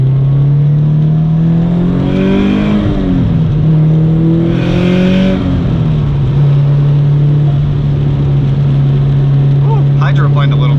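A 2005 Subaru STI cruises on a wet freeway, its engine droning loud and steady with a couple of rising revs as gears change, and a light rattle near the end.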